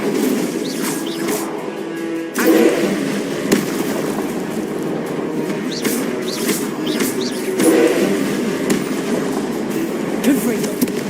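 A fire spell is cast repeatedly in Hogwarts Legacy, giving crackling, whooshing bursts over a constant rumbling game soundtrack. A voice speaks between the bursts.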